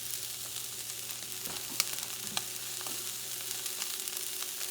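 Thick-cut Japanese wagyu beef fries in a pan with a steady, close sizzle and crackle, broken by a few sharp pops of spitting fat.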